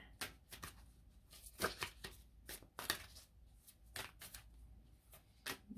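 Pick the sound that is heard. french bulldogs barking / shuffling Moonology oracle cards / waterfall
shuffling Moonology oracle cards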